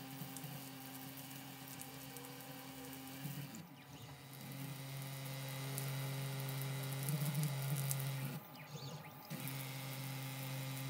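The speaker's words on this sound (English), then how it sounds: "The powerful sparks can be clearly heard." A DC motor rebuilt as a Wagner hammer engraves metal at 5 volts under a running water jet, giving a steady buzzing, crackling drone with the rush of water, interrupted twice by short dips.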